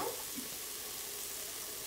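Duck curry masala sizzles and fries steadily in a pan, a constant close hiss with no talking over it.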